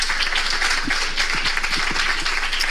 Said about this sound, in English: Can we make that round of applause more?